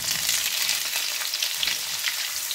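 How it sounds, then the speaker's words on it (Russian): Loud, steady sizzling of vegetables frying in hot olive oil over high heat, a dense crackling hiss throughout with no talk. "В уже прогретую сковороду я добавляю оливковое масло и обжариваю овощи."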